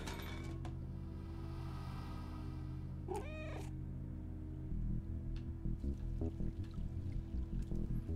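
A cat in the Stray video game gives one short meow partway through, heard over a steady low ambient hum and scattered soft clicks and taps, with no talking.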